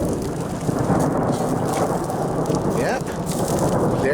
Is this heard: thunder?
yes